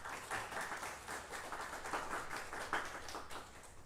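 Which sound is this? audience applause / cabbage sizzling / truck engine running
audience applause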